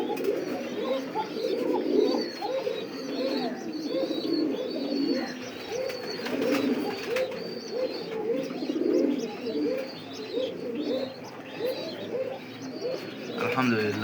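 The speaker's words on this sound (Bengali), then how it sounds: "কবুতর তার বাচ্চাকে কত যত্ন সহকারে খাওয়াচ্ছে।" Pigeons at a fancy pigeon farm coo in repeated soft, rhythmic phrases while feeding their chicks, with the cooing close and continuous and faint chirps above it.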